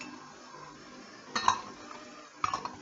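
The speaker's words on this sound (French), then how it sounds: "Alors je vais incorporer le deuxième œuf délicatement" Egg folded into a batter in a bowl, with soft scraping of a whisk or spoon and two brief clusters of clinks against the bowl rim, close and quiet with no talking.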